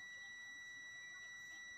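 A continuity tester's buzzer sounds a steady, high electronic tone, droning continuously and faintly, a thin unbroken buzz with no pauses, while a mini speaker is checked for a short.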